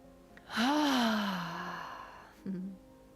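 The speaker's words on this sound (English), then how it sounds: "I would love to just take one deep breath together." One long, deep breath taken slowly in and released as an audible sigh during a group breathing practice, close and clear, followed by a short second exhale.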